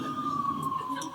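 A police car siren wails steadily at a middling distance, a single sustained tone sliding slightly downward, with faint background noise.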